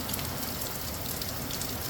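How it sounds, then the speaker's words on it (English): Steady rain falling outdoors, a dense continuous patter and hiss on surfaces, close and fairly loud throughout with no voices. "This rain looks like it's going to get worse for the next hour and then get better"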